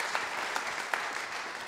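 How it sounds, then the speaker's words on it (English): A congregation applauding at a celebration of life, with dense sustained clapping from many hands and a few sharper individual claps standing out. "let's just give God a clap for just who he is through Ted"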